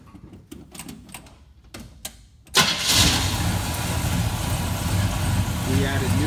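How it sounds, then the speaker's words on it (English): A 1972 Chevy Chevelle wagon engine with dual exhaust cranks with rapid clicking and stuttering turns, then catches and roars to life, settling into a loud, steady idle nearby. "Go ahead and fire it up for me, Kyle."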